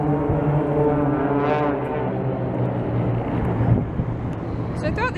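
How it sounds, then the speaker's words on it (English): A steady low engine drone of planes flying a synchronized formation overhead, broad and sustained, with a brief rising whoosh midway and people talking underneath. "there's been these random planes doing some kind of synchronized thing"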